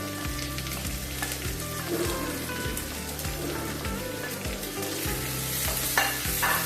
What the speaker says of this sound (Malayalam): അതിൻ്റെ ഹൈ ഫ്ലെയിമിലാണ് ഈ സവാള വഴറ്റിക്കൊണ്ടിരിക്കുന്നത്.